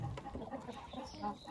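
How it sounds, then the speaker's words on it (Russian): Hungry chickens cluck and murmur in a close, busy chorus of short overlapping calls around a bunker feeder, moderately loud with no pauses. "куры голодные, их кормят один раз в 4 дня"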